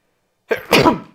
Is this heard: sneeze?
yes